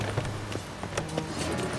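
Horse hooves clip-clopping in The Witcher 3, a close, steady rhythmic trot of hoofbeats over ambient game sound.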